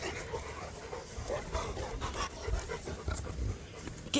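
A Cane Corso dog panting quickly and steadily up close, with soft rhythmic breaths and a few faint whimpering sounds, and no talking.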